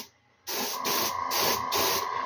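Aerosol spray paint hisses in long steady bursts with brief gaps between passes, close by, as a Hot Wheels Kool Kombi miniature is coated from about 20 centimetres away; no one speaks.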